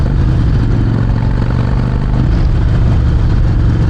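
Harley-Davidson Sportster 48 with a V&H exhaust pulling hard in third gear, a loud, continuous deep engine rumble with throbbing pulses, close up and without talk.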